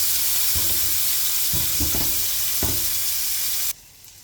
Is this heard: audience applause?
no